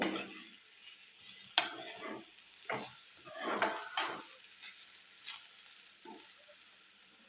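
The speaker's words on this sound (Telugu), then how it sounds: "ఈ పైన లేయర్ అనేది క్రిస్పీగా అయినంత వరకు ఫ్రై చేసుకుందామండి మధ్య మధ్యని కలుపుతూ ఫ్రై చేసుకోవాలండి" Diced carrot and potato sizzle softly in a pan, broken by a few scraping stirs of a spatula at irregular intervals over a steady frying hiss.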